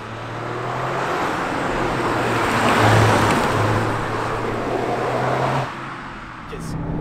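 Toyota Yaris GR Four with a 1.6-litre turbo three-cylinder engine driving hard on a small road, a loud steady engine drone with rushing wind and road noise that eases off near the end.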